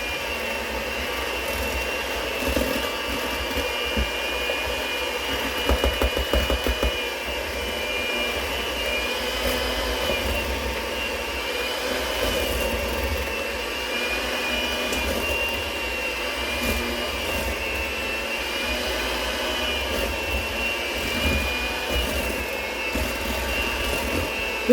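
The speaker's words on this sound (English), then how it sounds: "You'll blend that until it's creamy." An electric mixer blends cookie dough for cast iron skillet cookies, a steady loud motorized whir with slight wavering that runs continuously and close, with no talk.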